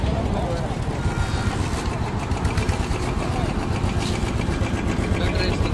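A Royal Enfield Bullet motorcycle runs through a Hayabusa-style aftermarket silencer, a close, steady thumping exhaust rumble that holds throughout with voices talking over it.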